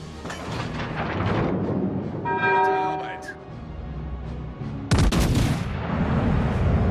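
Naval gunfire in the World of Warships Legends video game: heavy booming salvos under dense battle noise, a bell-like tone in the middle, and a sharp, loud blast near the end, with voice callouts mixed in.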